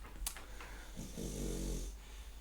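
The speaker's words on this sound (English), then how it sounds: "I hope that snore got picked up because that was loud." A single loud, rumbling snore, one long breath in with a low rattling drone, close by and alone.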